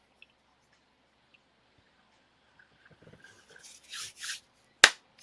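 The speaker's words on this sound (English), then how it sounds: "Sorry, I'm clapping" A few close, sharp hand claps land irregularly near the end after near silence, the last one the loudest, with soft rustling just before them.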